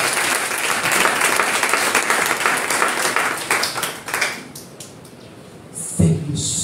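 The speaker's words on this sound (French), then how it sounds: "Acclamez Jésus pour ça." A church congregation at a French-language sermon in Togo bursts into loud, sustained applause for Jesus, the clapping thinning and fading out after a few seconds.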